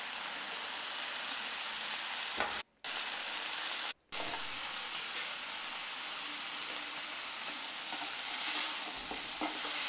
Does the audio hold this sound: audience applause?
no